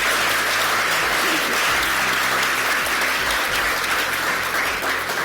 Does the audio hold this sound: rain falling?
no